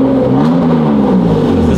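BMW E36 328i engine with a Fox rear muffler revving up to around 3000 rpm, a loud, steady, throaty exhaust drone with a gently rising tone held close up throughout.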